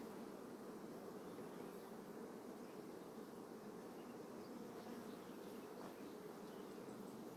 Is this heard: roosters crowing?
no